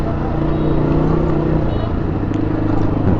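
Congested road traffic rumbles steadily around a motorcycle ride, with close, continuous engine and vehicle noise and no breaks.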